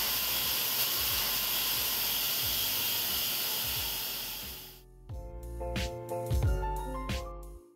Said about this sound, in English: We're just going to release the steam and then stir everything in.